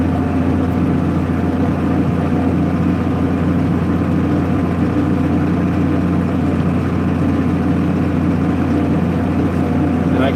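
A White 6125 tractor engine with a Funk transmission runs steadily during corn planting, a loud, continuous low diesel drone with no pauses, close to the listener.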